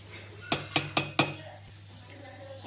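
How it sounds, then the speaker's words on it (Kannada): Semolina (rava) goes into a mixer jar with four quick, sharp metallic clinks in a row, followed after a pause by a fainter clink or two. "ಇದು ಇಷ್ಟು ರವೆ ನಾನು ಮಿಕ್ಸಿ ಜಾರಿ ಒಳಗೆ ಹಾಕೋತೀನಿ ನೋಡಿರಿ"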